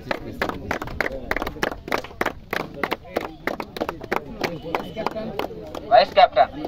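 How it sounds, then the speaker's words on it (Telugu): Applause from a crowd at a district-level cricket prize ceremony for third-place winners, a steady run of hand claps throughout, with louder, denser clapping near the end. "క్లాప్స్."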